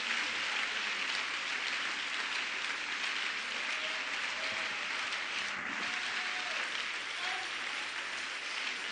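A church congregation applauds during a worship service, a dense, steady wash of many hands clapping at once that holds evenly from start to finish without any voices on top.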